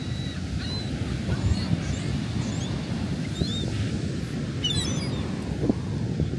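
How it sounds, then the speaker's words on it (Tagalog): Steady wind roars across the microphone at a beach with constant surf-like rush, and faint bird chirps flicker in the background. "Hindi ko na kaya patuloy yung hangin eh."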